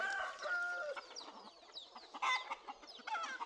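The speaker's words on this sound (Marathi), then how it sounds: "एकदम देसी गावरान असं कुक्कुटपालन" Free-range desi country chickens clucking at a poultry farm, several birds calling over one another in a steady chorus of short clucks and chirps, with no voices.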